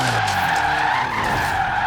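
A 900hp Bentley Bentayga in Forza Horizon 3 slides through a hard handbrake skid, with a steady, loud tire scrub and engine roar that holds for about two seconds without letup.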